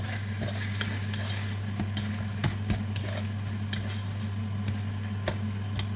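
Indomie noodles stirred in a sizzling pan, with a steady fry hiss and irregular scraping clicks of the utensil against the pan, close and moderately quiet over a low hum.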